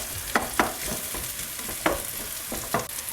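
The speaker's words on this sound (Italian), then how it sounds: "aggiungere subito l'aglio e la cipolla. Facciamo il soffritto per bene." Garlic and onion soffritto fries in a pan with a steady sizzling hiss, while a spoon stirs through it in several distinct scraping strokes spaced irregularly over a few seconds, close and moderately loud.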